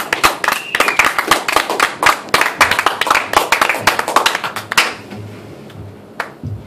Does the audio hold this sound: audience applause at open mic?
yes